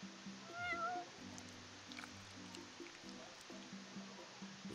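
A cat in Final Fantasy XV gives a short, faint meow near the start over soft game music and background ambience, with no talking.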